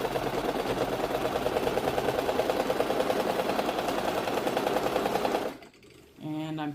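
An electric sewing machine, run from a foot pedal, stitches cloth strips for a quilt border with a steady, fast mechanical chatter close up, then stops abruptly near the end as a voice briefly speaks.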